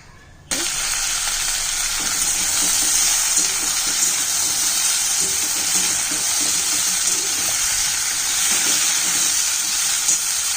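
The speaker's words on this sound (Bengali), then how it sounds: "মাছগুলো একটু সুন্দর করে ভাজা হোক" Fish frying in hot oil in a kadai, a dense, continuous close-up sizzle that starts abruptly and holds steady throughout with no talking.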